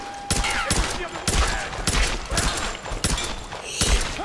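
Gunfire in the video game Tomb Raider: several loud, sharp shots in a steady series about half a second apart, each with a brief echoing tail, with faint game ambience between the shots.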